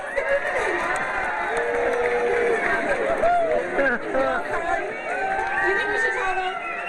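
A crowd cheers and shouts during a bird race at a lion safari park, voices overlapping in a loud, continuous excited din with some whoops rising above it.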